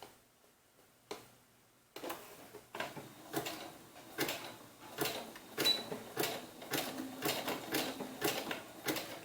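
Sewing machine running short bursts of about ten stitches at stitch length 4.5 to close off fabric ends on a doll-hair bun maker, a rapid rhythmic clatter that starts and stops, fairly close, with no talking.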